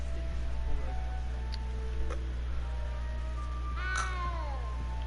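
A cat meows in the video game Hogwarts Legacy, a single rising-and-falling meow near the end, heard over a steady low game hum with faint ambient clicks.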